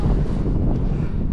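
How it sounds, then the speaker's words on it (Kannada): Strong wind at Manchanabele dam buffets the microphone in a continuous, loud low rumble with no pauses. "ತುಂಬ ಗಾಳಿ ಇದೆ,"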